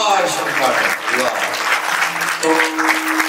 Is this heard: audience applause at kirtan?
yes